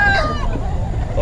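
Chickens at a festival expo market cluck and crow briefly, a close, loud rooster-like call rising over a busy background murmur of the market crowd.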